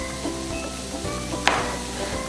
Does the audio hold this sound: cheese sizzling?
yes